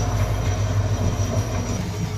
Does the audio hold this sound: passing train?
yes